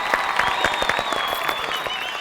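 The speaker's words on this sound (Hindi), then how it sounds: "अरे जरा जोरदार तालियां" Audience applause during a comedy poetry recitation at a home gathering, a steady wash of clapping with scattered cheers, loud and close, holding for a couple of seconds.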